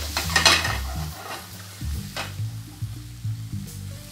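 Chopped onion sizzling in oil in a pan for a steakhouse-style risotto, with a bright crackling burst early on, then quieter frying under steady knocks and scrapes of stirring.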